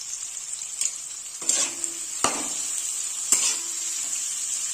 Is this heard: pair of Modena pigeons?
no